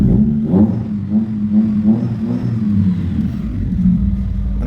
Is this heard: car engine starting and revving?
yes